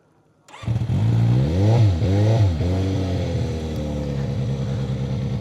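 A 750SR-S motorcycle with a loud aftermarket exhaust starts up and revs; after a brief silence the engine barks into life, climbs through two quick rising revs, then settles into a steady, rumbling idle close by.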